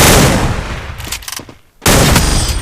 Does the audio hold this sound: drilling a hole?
no